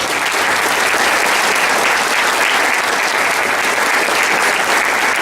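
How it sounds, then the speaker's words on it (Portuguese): A large crowd applauds continuously, a dense, even clatter of clapping hands that holds steady for several seconds. "Eu peço uma salva de palmas"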